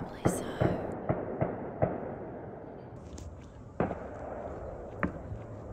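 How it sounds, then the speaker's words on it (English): Fireworks popping near a campsite at Fort McAllister State Park, a string of sharp separate bangs at uneven intervals, moderately distant, with quieter gaps and faint background noise between them. "we went to investigate where the fireworks were coming from"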